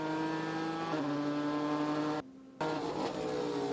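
Ford 3.5 litre turbocharged V6 race car at Petit Le Mans, loud and steady as it races past, its harmonic drone shifting pitch once, then cutting out abruptly for a moment before returning at full volume.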